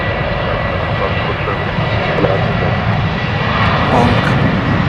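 An airplane landing at Dallas Love Field, a loud, steady roar of aircraft engines filling the air, with voices talking over the continuous drone.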